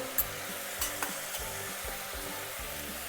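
A sautéed millet masala dosa filling with turmeric sizzles evenly in a pan while a spoon stirs it, giving soft rhythmic scrapes roughly twice a second over a steady frying hiss.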